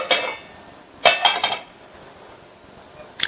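A metal lid clinks onto a pot of milk on the stove while sweet payasam simmers, giving a few sharp clattering knocks with quiet pauses between them.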